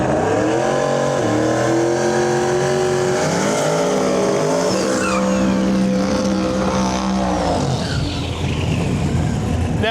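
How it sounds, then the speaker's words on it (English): A loud drag racing car roars down the track at a Rocky Mountain Nationals event, its engine pitch climbing steadily and then fading, with talk faintly mixed in. "Chris Huey Houston pulling up with the Lil Merm."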